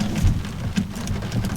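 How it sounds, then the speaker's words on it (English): Rain beginning to fall around a cheap Renault Twingo, a steady close patter of drops with low rumbling underneath and no voices. "Just started to rain."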